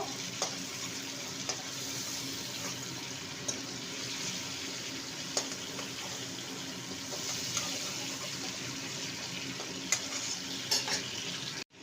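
Prawns frying in a wok, a steady sizzle and bubbling running throughout, with occasional sharp clinks and scrapes of stirring; no talking.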